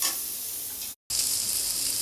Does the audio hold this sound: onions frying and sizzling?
yes